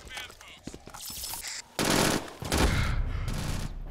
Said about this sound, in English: he's actually trying to shoot me